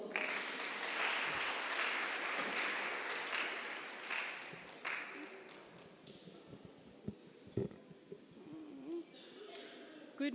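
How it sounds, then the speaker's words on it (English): A crowd at a youth seminar in Ekurhuleni applauds loudly at first, then the clapping thins and fades into scattered claps with some voices and rustling as it dies away. "Round of applause."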